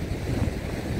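Stormy sea waves roll in at Odesa, a steady, loud, rumbling wash of surf and wind with no clear breaks.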